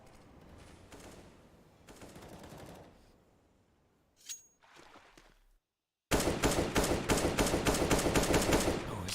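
Rapid bursts of automatic gunfire from Counter-Strike: Global Offensive during a competitive match, some fainter shots first, then a long loud sustained volley of rattling fire.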